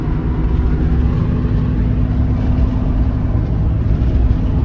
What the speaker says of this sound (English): driving in fourth gear